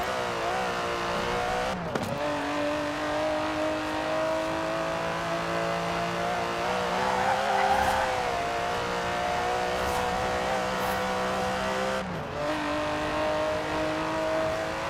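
An Aston Martin DB11 with a 5.2-litre twin-turbo V12 in Forza Horizon 4 roars steadily and loud, holding a sustained drone with two sharp gear-change dips, the tone climbing and falling as it revs through the run.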